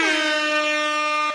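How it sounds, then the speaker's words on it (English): A single loud, blaring air horn blast held for over a second, close and harsh, then cut off. "we'll give him the air horns"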